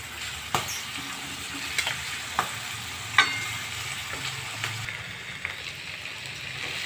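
Fried peas and potatoes being sautéed in a pan, a steady low sizzle with several sharp spatula scrapes and taps spaced irregularly, close and moderately loud, no voices.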